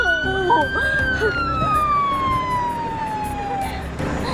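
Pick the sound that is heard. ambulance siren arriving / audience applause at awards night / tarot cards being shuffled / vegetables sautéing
ambulance siren arriving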